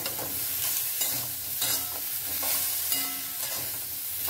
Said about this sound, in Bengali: এইভাবে নাড়াচাড়া আর একটুখানি করে নেব